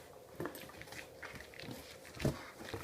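A dog mouths and chews something close up, making soft, irregular snuffles and crunchy bites at low volume.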